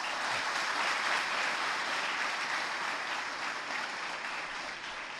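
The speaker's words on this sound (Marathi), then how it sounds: "आता तुम्ही प्रेमाने टाळ्या वाजवल्यात" Audience applause at a lecture hall talk, dense steady clapping from a large crowd that holds evenly for several seconds and tapers slightly toward the end.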